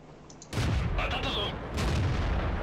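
A tank gun fires in World of Tanks from a Chi-Nu Kai Japanese premium medium tank, one sudden loud boom followed by a sustained rumbling roar and echoing tail with game effects.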